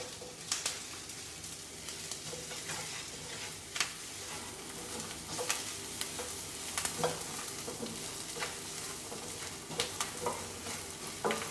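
Coconut roasting in a pan for pumpkin curry, a steady dry sizzle with frequent scraping stirs and light taps of a spoon against the pan, close and clear with no talk.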